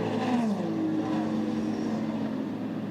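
GT3 race cars at Le Mans, among them a BMW M4 GT3, roar past with a sustained droning engine note that sweeps down in pitch, loud and fairly close.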